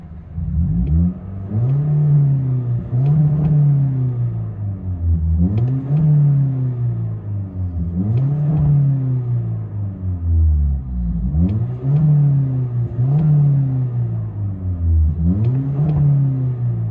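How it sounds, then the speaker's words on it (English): A 2022 Toyota Corolla XSE hatchback with a muffler delete is revved over and over, each loud, close rise in pitch falling back to a rough idle in a steady rhythm, with no talking. "so we can rev it a little bit harder"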